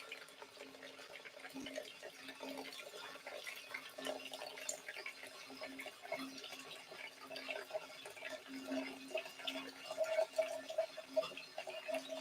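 Water trickles and drips from a kettle spout at a low pour rate, a faint, close, irregular patter of small drops continuing steadily without talk.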